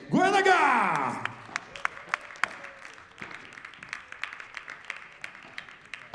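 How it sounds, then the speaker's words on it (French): Audience at a FIP Rise padel tournament in Bourg-en-Bresse, 2023 quarter-final, applauds referee Enrique Goenaga: a brief loud burst of cheering and a whoop, then scattered individual claps thinning out. "Je vous demande de l'applaudir."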